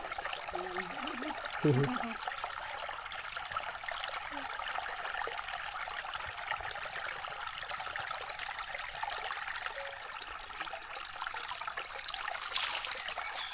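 Water trickles and splashes continuously at a natural water source in the Laotian countryside, steady and fairly close, with a few faint brief bird or voice sounds early on.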